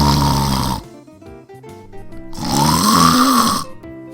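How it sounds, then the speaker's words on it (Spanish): A man snores loudly in bed, two long rasping snores with a pause between them, the second rising and stretching out. "él ya estaba dormido y roncando durísimo"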